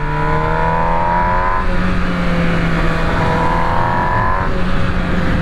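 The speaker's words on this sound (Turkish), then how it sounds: "Şimdi bak 5000'deki sese bak." An MV Agusta Brutale 1000 RS motorcycle engine revs around 5000 rpm, its tone rising and falling as the throttle is worked, loud and close with no talking.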